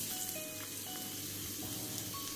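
Finely chopped garlic in two tablespoons of hot oil sizzles in a cheenachatti pan, giving a steady, faint, close frying hiss with light crackles.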